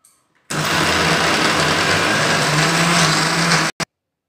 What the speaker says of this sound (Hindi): मैं लूंगी एक मिक्सर ग्राइंडर और इसमें मैं डालूंगी हरे मटर